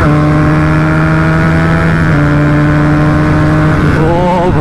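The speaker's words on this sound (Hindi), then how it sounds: "फुल सिस्टम एग्जॉस्ट के साथ है, दोनों R15 एक दूसरे को चेस करते हुए" Two Yamaha R15 motorcycles fitted with full-system exhausts chase each other, their engines droning loud and close with a steady layered tone before revving sharply upward near the end.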